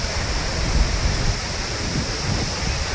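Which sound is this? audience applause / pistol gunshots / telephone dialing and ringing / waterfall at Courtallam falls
waterfall at Courtallam falls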